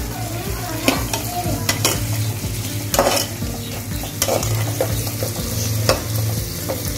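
Vegetables, including carrot, sauté and sizzle in a pan for aviyal, with steady frying hiss broken by repeated scraping stirs and occasional sharp utensil knocks, close and fairly loud with no talking.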